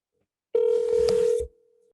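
A single steady telephone tone sounds once during a call, lasting about a second before cutting off, loud and close with a faint tail afterward and no talk over it.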